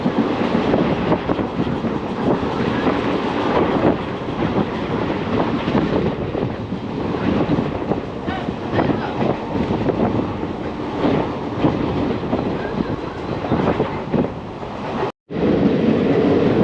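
Continuous rumble and rattle of a long-distance train running between Coimbatore and Thiruvananthapuram near Aluva in Kerala, loud and steady with wind buffeting throughout, broken by one brief dropout near the end.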